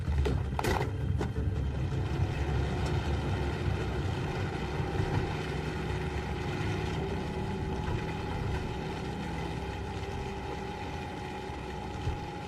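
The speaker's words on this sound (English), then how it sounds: "Going up this mountain is making the engine work about 10 times harder than it's supposed to." A vehicle engine labouring hard as it climbs a mountain road, a steady loud droning hum with a constant low rumble running the whole time, no voices.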